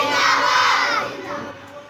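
A crowd of schoolchildren shouts a religious slogan back in unison at a school event, a loud massed roar of young voices that swells and then tapers over a couple of seconds.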